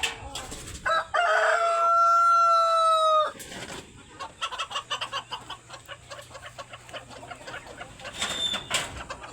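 Chickens eating mealworms: a rooster gives one loud, drawn-out crow close by, followed by a busy run of softer clucks and pecking noises, with faint voices in the background.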